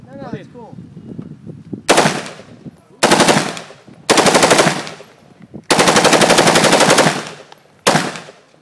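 Full-auto bursts from a Philippine-made UDMC rifle fired one-handed, five loud close rapid strings of varying length, the fourth the longest, with brief talk and a clink just before the first burst.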